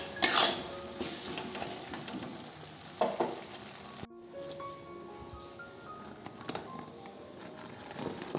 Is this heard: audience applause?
no